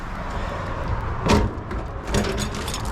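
The back door of a fifth wheel camper, heard as a single close thump of a door closing at mid-clip, with a fainter knock or rattle following, over steady room noise.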